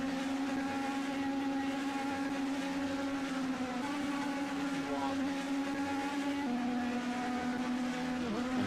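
Race cars roar steadily around the Milwaukee Mile oval, a sustained engine drone with a strong pitch line that shifts slightly as cars pass, loud and continuous throughout with no talk.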